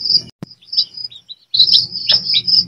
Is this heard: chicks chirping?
yes